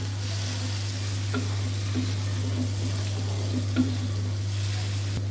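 Whole cumin, turmeric and crushed red chilli frying in a pan for dhaba-style daal mash, a steady soft sizzle under a constant low hum, with occasional faint stirring scrapes.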